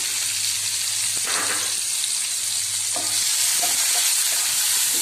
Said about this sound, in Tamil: போட்டு வெங்காயம் நல்லா ஃப்ரை ஆனதும்